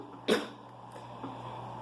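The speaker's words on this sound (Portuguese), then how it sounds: "Perdão, gente, por eu ter tossido." During a read-aloud of a play, a single sharp cough bursts out close to the microphone and then fades into quiet room tone.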